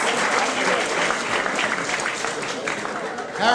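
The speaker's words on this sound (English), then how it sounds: "Harrison, give him a round of applause." A comedy club audience applauds and cheers as comedian Randy Levin takes the stage, a dense, steady wash of clapping that swells again at the end, with crowd voices mixed in.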